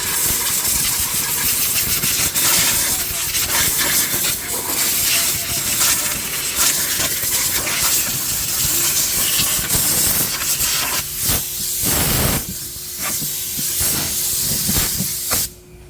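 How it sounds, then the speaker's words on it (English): Compressed air blasting hard and steady against Mercedes-AMG GT front brake parts, a loud continuous hiss with a few brief bursts and pauses near the end. "just try to clean this with air."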